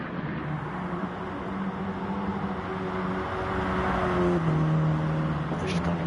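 Race cars in a Ford Focus Cup sim racing game at Blue Moon Bay run side by side into a turn, a steady engine drone with shifting pitch throughout, partly under faint talk.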